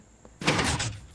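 A Minecraft jeb door slamming in a single sudden burst that rattles for most of a second before cutting off, close and clear with no talk over it.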